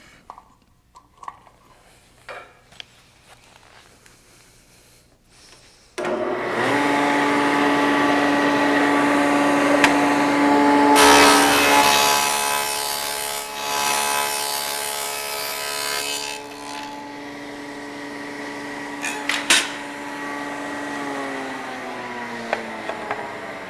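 A table saw starts up and whines steadily, cutting a dado in oak veneer plywood; the cutting tone deepens and grows rougher for several seconds while the blade is in the wood, then the motor runs on and finally spins down.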